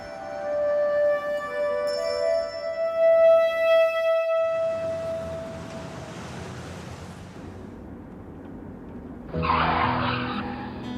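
A car skids with a sharp tire squeal, loud and close, after a stretch of music and hissing road noise, ending in a brief bright screech.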